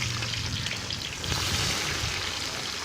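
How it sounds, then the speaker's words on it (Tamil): Onions and green chillies with whole spices sautéing in hot oil for a chicken biryani, a steady close sizzle and crackle with a faint low hum, no voices. "வெங்காயத்தையும் பச்சை மிளகாயும் போட்டு நல்லா ஹீட்டில் வதக்கி பொன்னிறமாக வதக்கி எடுத்துக்குவோம்"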